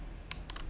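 Code is typed on a computer keyboard: a few quick, quiet key clicks in a short burst, close by over faint background hiss.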